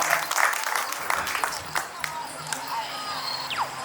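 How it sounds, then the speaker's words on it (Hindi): Applause from the audience at a Hindi comedy poetry gathering, a burst of clapping with some cheering and whoops that tapers to scattered claps, with voices underneath. "अगर आपके दिल तक मैं पहुंच पाता हूं तो ताली से आप आशीर्वाद दे"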